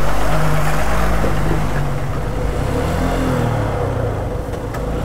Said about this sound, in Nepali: बसहरू चाहिँ यसरी कुदिरहेछ